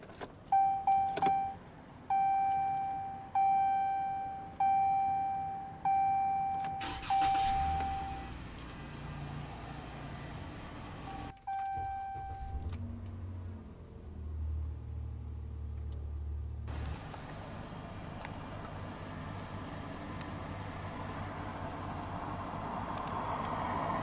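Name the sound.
2017 Ram 1500 pickup diesel engine starting and idling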